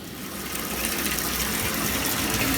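Water pours from a Moen single-handle faucet fitted with a new 1222 cartridge, a steady rushing gush that grows slightly louder and stays constant, close and unaccompanied by speech.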